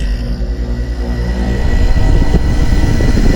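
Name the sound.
air conditioner being switched on and running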